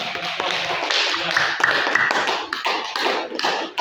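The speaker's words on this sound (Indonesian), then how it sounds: "Kasih aplaus." Classroom applause: a dense patter of many hands clapping together, loud and close, running steadily throughout.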